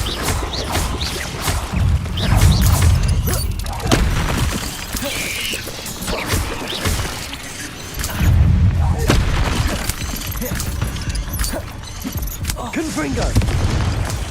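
Repeated booming blasts of the Confringo explosion spell in the video game Hogwarts Legacy, with heavy low-end thuds and crashing debris mixed into steady in-game combat noise and voices.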